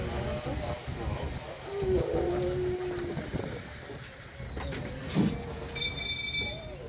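A small tourist train rolls around the old streets of Mdina and Rabat in Malta, its rumbling carriages and a brief wheel squeal continuing under people chatting aboard.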